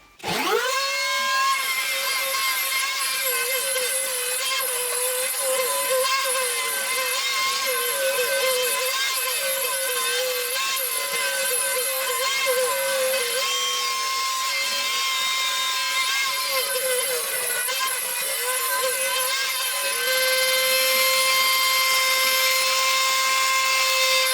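A homemade wooden 3D milling machine cuts with a freshly fitted mill bit, giving a loud, steady high-pitched whine with a constant tone and slight wavering throughout, no voices.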